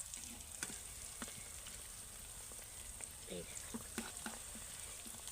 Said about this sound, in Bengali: মাঝারি আঁচে কিন্তু এগুলোকে ভেজে নিতে হবে